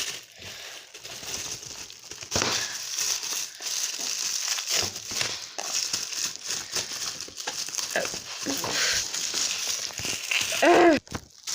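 Plastic foil crinkles and crumples continuously at close range while being handled during a gift unboxing, busy crackling texture throughout, louder toward the end, no talking.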